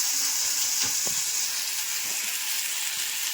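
Dibba rotti batter fries in hot oil with a steady, close, loud sizzle and hiss. Occasional soft pops and stirring sounds come through it.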